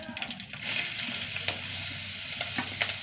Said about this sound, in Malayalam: ഇതിലേക്ക് ഇഞ്ചി ഇട്ട് കൊടുക്കട്ടെ